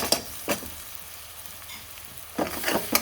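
Onions with salt fry in a pan for a restaurant-style sag paneer, giving a steady close sizzle broken by a few loud scraping stirs near the start and end, with no talk.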